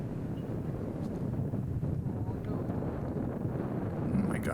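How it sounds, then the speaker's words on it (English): Strong, steady wind buffets the microphone on an open hilly disc golf course at Lake Chabot in Berkeley, a continuous low rumble with gusts and no break. "Oh my gosh, this wind is getting intense."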